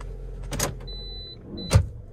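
Toyota Corolla Grande automatic door lock engaging, with two short sharp clunks of the lock actuators inside the car, close and distinct over a quiet cabin hum.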